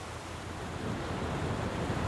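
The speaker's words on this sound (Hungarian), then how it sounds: "Következő állomásunk a csendes óceán közepe." Open ocean surf in the middle of the Pacific rolls as a steady, low wash of waves with faint wind noise, alone and without voices.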